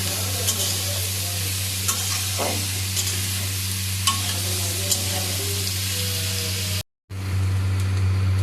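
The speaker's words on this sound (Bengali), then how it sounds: "তারপরে এটাকে একটু নুনের সাথে ভালো করে নাড়াচাড়া করে নিতে হবে" Vegetables tossed with a little salt in a wok sizzle and fry steadily, with faint scraping stirs at intervals and a brief cut before the frying resumes, alone without talk.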